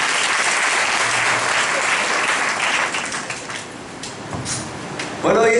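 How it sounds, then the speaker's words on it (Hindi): Applause from a church congregation fills the room, steady and loud before thinning out, with a voice cutting in right at the end. "ताली बजाएंगे भाई साहब के लिए।"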